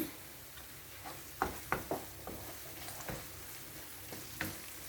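Tomato paste with chili flakes and black pepper frying in a pan makes a soft, steady sizzle, broken by several faint clicks and taps of a utensil against the pan.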